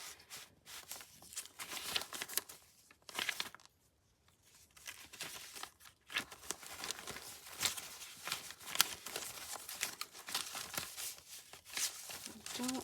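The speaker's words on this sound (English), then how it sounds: "This is just a bag full of scraps." Hands rummage through a bag of old paper scraps during collage work, giving steady close crinkling, rustling and tearing-like rattles with a brief quiet pause early on, and a voice speaks briefly.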